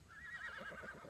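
A horse whinnies in a video game, a single drawn-out neigh with a rising, quavering call that fades into shorter breathy pulses, moderately loud and with no talk over it.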